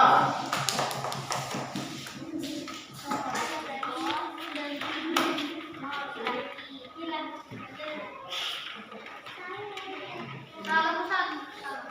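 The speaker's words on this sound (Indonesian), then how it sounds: "tepuk tangan untuk kelompok 2" Children clapping for a group in a classroom, scattered taps and claps running throughout, with children's voices chattering over them.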